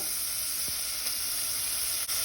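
Onions sizzling steadily in a hot pan with curry leaves and asafoetida for Goan black chana ros, a constant close frying hiss with a faint stir or clink near the end, no voices.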